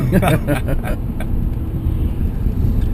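Low rumbling road noise inside a moving car, steady and continuous under a voice talking through the first second.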